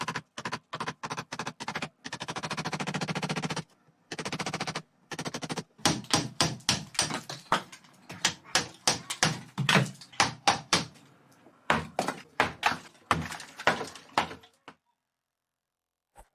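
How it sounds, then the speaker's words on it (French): A chisel is hammered to knock the last small piece out of a wall during an under-stairs storage build, giving a quiet series of sharp taps and knocks in irregular bursts with short pauses between them. "je vais utiliser un burin à la place pour enlever ce dernier petit morceau"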